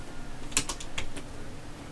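Typing a Linux install command on a computer keyboard: a short run of quiet, close key clicks, a handful of quick taps in a brief burst.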